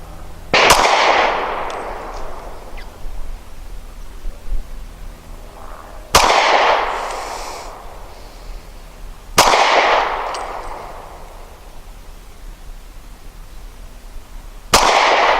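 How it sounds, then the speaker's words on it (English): Four loud, sharp pistol shots from a Smith & Wesson M&P40 Shield firing Black Hills remanufactured 180 grain ammunition at 7 yards on a shooting range, widely spaced at a few seconds apart, each with a decaying ring. "my first 5 shots from 7 yards is going to be with the M&P40 Shield using the Black Hills remanufactured 180 grain"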